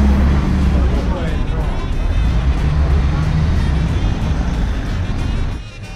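City bus number 32 running between Rijeka and Opatija, a steady low engine rumble with road noise, loud and close, easing off near the end.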